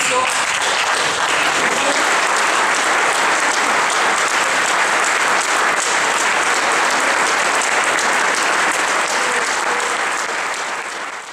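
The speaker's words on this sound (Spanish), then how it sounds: "pedimos de pie que lo homenajeemos con un fuerte aplauso" A standing audience at a national union leadership meeting gives loud, dense applause in homage, a sustained wall of clapping that holds steady for about eleven seconds before tapering slightly at the end.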